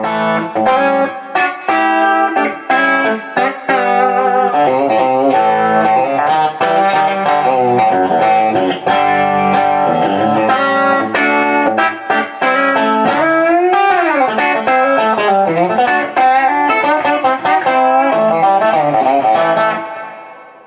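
Electric guitar played with a clean tone through a TC Electronic reverb pedal, chords and notes ringing out and decaying into long washy tails, continuous and fairly loud.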